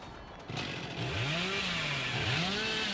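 In the horror game Dead by Daylight, the killer's chainsaw starts up suddenly and keeps revving, a loud buzzing whine that swells and dips in pitch several times, with no talking over it.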